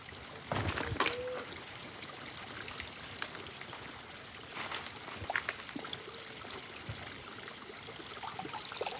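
Spring water trickling out of the ground on Chapari mountain in the Peruvian wilderness, a soft steady outdoor flow with a few brief splashes and rustles, moderately close and fairly quiet throughout.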